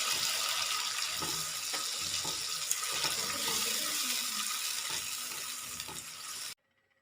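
Finely chopped red tomatoes drop into a pan of frying masala, with a loud continuous sizzle and hiss and a few soft stirring knocks, ending abruptly.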